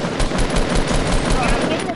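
Rapid shotgun blasts in a video game fire in quick succession, loud and dense, with voices talking over the gunfire.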